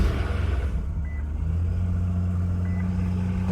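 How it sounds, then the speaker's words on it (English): An Infiniti car engine idles steadily and close, with a low continuous rumble and a faint periodic beeping on top. "Engine doesn't sound bad."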